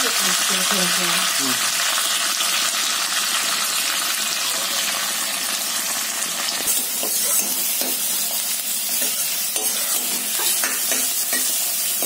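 Mustard seeds and cumin frying in a pan while being stirred, a dense loud sizzle with crackling throughout and a brief voice near the start.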